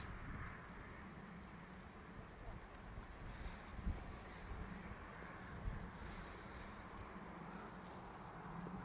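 An aircraft arriving from Geneva at Manchester Airport rumbles in a low, steady, distant engine roar with wind buffeting the microphone, faint and continuous throughout.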